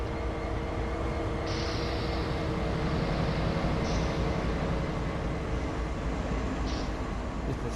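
A CSX CW40-B diesel locomotive in Train Sim World 5 on the Boston–Worcester route, a steady loud engine rumble with rail running noise throughout and brief higher squeal-like tones appearing a few times, no voices.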